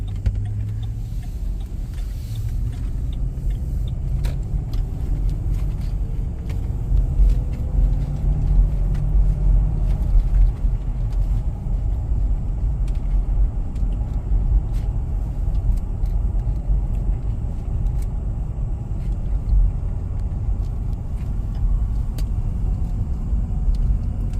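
Steady road traffic on a Canadian street at high school letting-out time, many cars passing in a continuous low rumble, moderately loud, with small clicks and bumps scattered through it and no talking.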